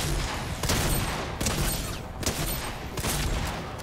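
Shotgun blasts in Fortnite, several loud, sharp booms in quick succession about a second apart, each followed by a brief rumbling tail.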